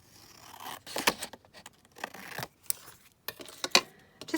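Scissors snip through the bottom of a paper card in a handful of short, crisp cuts and rustles, close and fairly quiet, with gaps of near silence between them.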